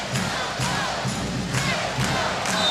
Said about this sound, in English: And the crowd just seems to get louder and louder, more impatient.